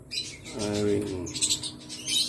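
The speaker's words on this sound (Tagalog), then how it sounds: "And this is the parakeet." A parakeet chirps in quick, bright bursts, kept in a home aviary alongside African lovebirds and chickens; the tweets repeat close by at moderate loudness over a low background murmur.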